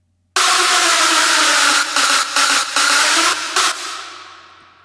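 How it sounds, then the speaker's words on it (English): A harsh, bright distorted hardstyle synth screech, unfiltered, sustains loudly with a few brief dropouts near the end, then fades out. "I tried to create a screech for the kick, and it sounds like this without any filters."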